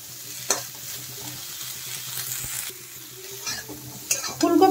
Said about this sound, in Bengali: ফুলকপিগুলো ভাজা হয়ে গেছে,